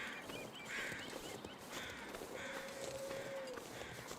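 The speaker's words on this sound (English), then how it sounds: "There's crows." Crows caw in The Long Dark's snowy wilderness, several faint, distant calls spread across a soft, steady outdoor ambience.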